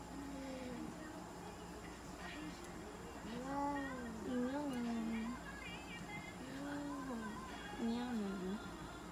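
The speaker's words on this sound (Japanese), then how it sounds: "猫ちゃん泣いてる。" A mixed-breed cat cries out during drying and brushing, with several drawn-out, wavering meows one after another, close by, over a faint background hum.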